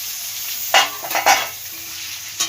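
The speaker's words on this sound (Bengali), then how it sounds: "পেঁয়াজটা আগে ভাজা হোক" Chopped onions hiss and sizzle in hot oil, punctuated by a few sharp scrapes and clinks as they are stirred.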